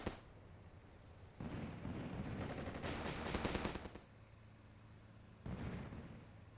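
Mortar and small-arms fire in the war game Armored Brigade 2, with dense bursts of loud gunfire and blasts that swell to a roaring peak in the middle, then fall away before another burst near the end.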